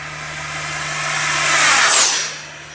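A Freewing Eurofighter Typhoon RC jet with a 90mm electric ducted fan on 8S power screams at full throttle in a slight dive, a loud steady high-pitched whine that swells to a peak as it passes close, then fades slightly.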